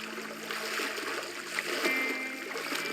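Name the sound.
swimming through water in the video game Teardown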